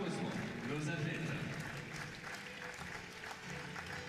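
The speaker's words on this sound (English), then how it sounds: "please give a warm round of applause to our athletes" Steady applause from a crowd at a women's team gold medal match, India vs Mexico, at the 2021 World Cup in Paris, fills the whole stretch, a dense wash of clapping with some voices mixed in underneath.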